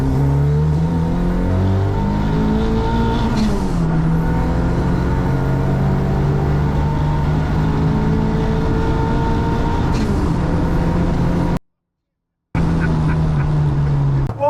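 Engine of a 350BHP Mk1 Ford Escort Cosworth revving hard and loud on a lap, pitch climbing through the gears with shifts and a brief cut-out before pulling again.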